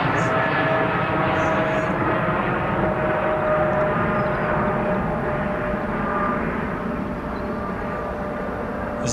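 A GE-powered Boeing 777 jet at Heathrow produces a loud, continuous engine roar with a steady rumble and hiss throughout, and there is no pause or silence.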